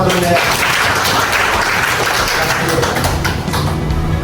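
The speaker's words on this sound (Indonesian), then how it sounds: "kita berikan aplaus sama teman-teman" Classmates in a classroom give a round of applause, a dense, steady wash of clapping that fills the whole stretch at close range, with a few voices mixed into the noise.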